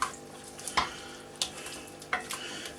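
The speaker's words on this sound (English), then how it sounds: "Stir that in" Fresh parsley being stirred into a mushroom and bacon stuffing for air-fryer stuffed mushrooms: a few soft, separate scraping clicks of a spoon in the bowl over a quiet, faintly sizzling background.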